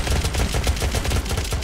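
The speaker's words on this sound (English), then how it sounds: "I heard shots." Rapid gunfire in the video game Unturned: a loud, dense burst of repeated shots in quick succession, close and continuous throughout.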